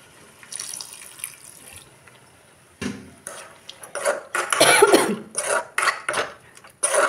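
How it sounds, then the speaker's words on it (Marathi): Water is poured into a pan of fried prawns being cooked into a dry masala, giving splashing, sizzling bursts that start loud midway and come in uneven spurts after a quieter stretch of faint kitchen noise. "एकदम थोडं पाणी टाकते,"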